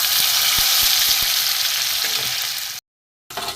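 Cabbage and egg pieces frying in hot oil in a pan, a loud, steady sizzle with a few soft taps, cutting out briefly before the sizzling returns.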